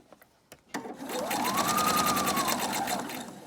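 A sewing machine stitches a fabric Bible cover in a steady, loud, continuous whir after a few soft clicks, running alone at close range for about three seconds.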